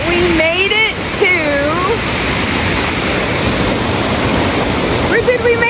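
A waterfall at Lynn Falls in the Great Smoky Mountains roars steadily and close throughout, with a person talking over the rushing water at the start and end.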